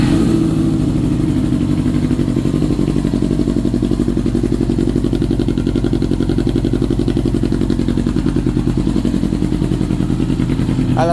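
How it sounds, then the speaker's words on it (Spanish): A 2000 Yamaha R6 motorcycle engine with freshly cleaned and synchronized carburetors revs steadily up close, a continuous loud, throbbing mid-low drone with fast rhythmic pulsing that holds high throughout without settling. "ya la aceleración está a todo dar, acelera bastante bien, pero batalla para mantenerse tranquila"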